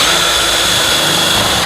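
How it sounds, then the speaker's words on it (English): A power drill spins a bit through wood, boring pilot holes for screws while building a wooden birdhouse; a loud, steady whine runs the whole time and cuts off abruptly at the end. "I'm going to drill some pilot holes and actually have screws here."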